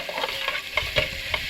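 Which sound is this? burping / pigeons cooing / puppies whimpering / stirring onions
stirring onions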